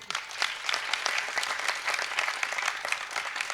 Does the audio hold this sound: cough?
no